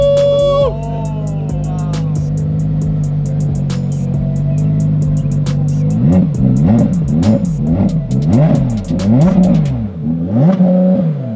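A Porsche GT3 RS engine idles, then revs repeatedly in sharp bursts, loud and close, with rising and falling pitch over the second half.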